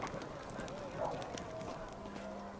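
Horse hooves clip-clopping faintly in a fantasy role-playing video game camp scene, a soft irregular trot heard under a nearby speaking voice.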